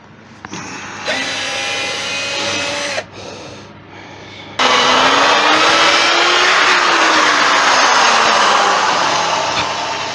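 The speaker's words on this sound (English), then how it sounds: "I want to drill straight down through it." A power drill bores straight down through a Monkey Puzzle branch being made into a lamp, whining in short bursts before settling into a loud, continuous grinding run, with no talk.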